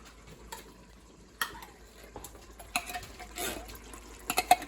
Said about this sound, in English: All right, and then we stir that in. So get it stirred up real well.